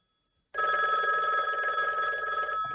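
A telephone rings loud and close, a continuous bright electronic ring starting after a brief silence and running steadily to the end with no voices.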